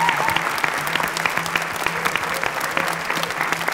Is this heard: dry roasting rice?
no